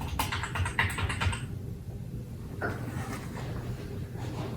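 A password being typed on an iMac G5 keyboard, a quick burst of close key clicks followed by a few scattered taps against a quiet room hum.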